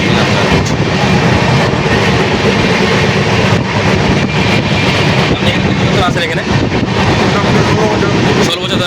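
A passenger train running, heard from inside the carriage on a Bankura to Chennai journey: a loud continuous rumble with rattling and wind noise throughout.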